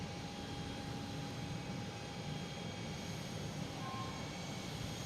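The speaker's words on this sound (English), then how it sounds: "we also have another A330-900 coming in from Athens" Airbus A330-900 airliner on final approach into Boston Logan from Athens, a steady jet engine rumble with faint whining tones above it, constant and moderately distant, with no voices.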